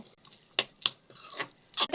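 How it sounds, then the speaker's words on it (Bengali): Boiled potatoes and peas being mashed in a kadai wok for ghugni chaat: several brief rasping scrapes and dull knocks of the utensil, close and fairly quiet. "আলু ম্যাশ করে দিয়ে দেব।"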